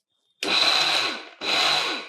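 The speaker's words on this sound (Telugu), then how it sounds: "ఇది ఒక్కసారి మిక్సీలో వేస్తాను" A mixer grinder whirs through two short bursts, about a second each with a brief pause between, loud and close, grinding sesame seeds.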